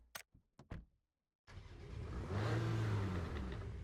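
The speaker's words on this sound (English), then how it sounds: "Yeah, sounds like a Porsche." A Porsche GT in base default GT silver metallic from the PUBG Porsche collaboration: a few short clicks, then a silence, then a loud engine start that swells into a steady, close revving roar with a rising harmonic whine and no talk over it.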